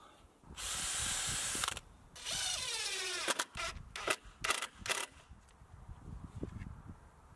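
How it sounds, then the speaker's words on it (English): Quick clamps are ratcheted and adjusted while setting the height of a timber gate, with bursts of clicking and rasping mechanical ratcheting close by, followed by lighter knocks and handling. "use a combination of packers and quick clamps to adjust the height"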